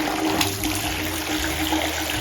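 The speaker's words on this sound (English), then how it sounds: "turn your water on, so you clear any junk out of there." Water gushes steadily from a Delta Silverton kitchen faucet, a close, continuous rushing stream with faint splashing.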